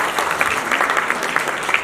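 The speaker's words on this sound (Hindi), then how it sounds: "जोरदार तालियां" Applause from a studio audience, steady and dense across the whole short stretch with no clear voices on top, reading as a crowd clapping together at moderate loudness.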